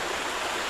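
Steady broadband rush of the Lomond River flowing through Gros Morne National Park, a close, continuous stream of water with no other sounds on top.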